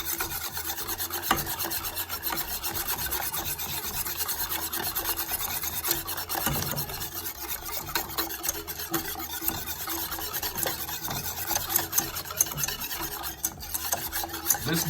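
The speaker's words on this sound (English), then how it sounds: "We're gonna whisk this all in." Brown sugar whisked into a pineapple habanero wing sauce, giving a steady, continuous scraping and rubbing of a whisk against the pan for the whole stretch, close and fairly loud with no talking.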